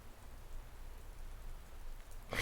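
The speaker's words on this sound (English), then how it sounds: "This is just rain. This is just a storm." Steady rain during a storm, a dense, even wash of falling drops heard close and alone with no voices, ending in a sudden louder burst at the very end.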